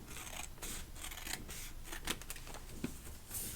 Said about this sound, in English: I'm just going to take my straight scissors and cut across.